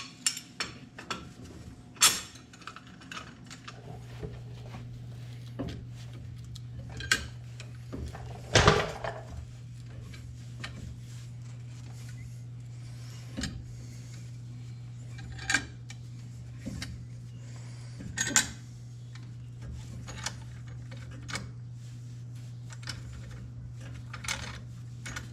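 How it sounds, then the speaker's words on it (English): A C-clamp is tightened to push brake caliper pistons back in while changing front brake pads, giving scattered metallic clinks and clicks over a steady low hum. "pushing those caliper pistons right back in just by the C-clamp"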